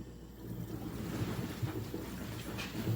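Water and air are flushed through the heater core of a 2008 Jeep Liberty, giving a faint, turbulent, gurgling rush of sputtering water with irregular bursts.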